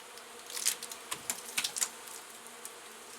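Honey bees from a hive several years old, disturbed during a cut-out, give brief buzzing bursts and quick near passes against a quiet background, with no talk.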